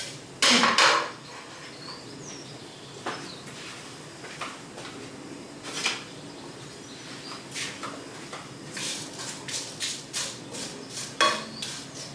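Dry spices for a Mexican mole mix are shuffled around a pan, giving scattered scraping, tapping and clinking metal sounds with quiet gaps between them, and no one speaks.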